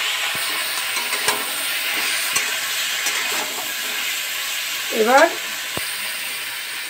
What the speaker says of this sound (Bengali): এবার আমি এই সব সবজিটা দিয়ে দিলাম।